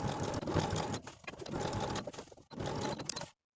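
A sewing machine understitches a pants waistband facing, running a steady, close whir in bursts with short pauses near the one-second and two-and-a-half-second marks before stopping just before the end.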